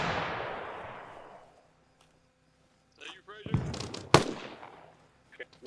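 Rocket strikes explode on a compound in a military video game: a loud decaying blast opens, then after a pause a radio voice talks over further sharp impacts and a heavy crack near the end.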